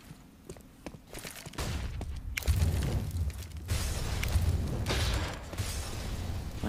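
A grenade detonates during a professional Counter-Strike match on the Mirage map, a muffled burst with crackling debris following quiet footsteps, then a sustained rumble of gunfire and game noise.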